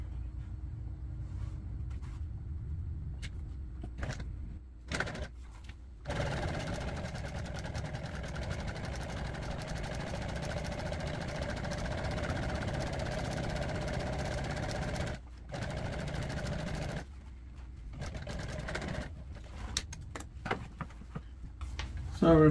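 A sewing machine top-stitching bar stool upholstery runs in long steady whirring bursts separated by short pauses, close and moderately quiet.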